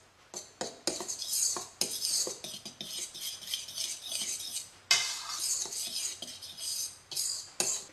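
Flour, baking powder and salt are stirred together in a bowl, rhythmic scraping and whisking strokes in short bursts with clinks of utensil against the bowl, close and fairly quiet, with no talking.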